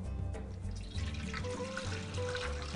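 Hot water poured into the pan of a bread machine over olive oil, a steady close trickle and splash lasting a few seconds.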